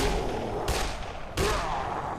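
Two sharp, loud gunshots from a firearm in the zombie video game Dead Island, spaced about two-thirds of a second apart, each followed by a dense ringing tail over a constant game-noise background.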